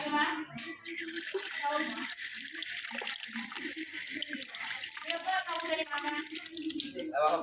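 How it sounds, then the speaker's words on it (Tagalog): Hands washed under a running tap, a steady close splash and trickle of water with voices talking over it intermittently, fairly quiet overall. "Hugas muna tayo ng kamay, guys."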